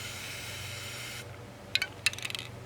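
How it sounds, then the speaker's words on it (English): An upside-down spray paint can hisses steadily for about a second before sputtering into short clicks and spits as only air comes out, close and alone. "turn your can upside down and just spray until air comes out"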